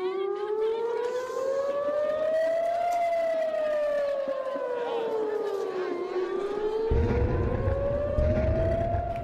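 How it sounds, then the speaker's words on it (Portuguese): Air raid sirens wail across Tel Aviv in long, loud rising and falling sweeps, with a low rumble coming in toward the end. "Em Tel Aviv, as sirenes soaram várias vezes"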